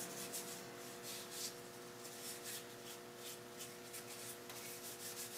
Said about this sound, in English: I did do a little bit of hand sanding on that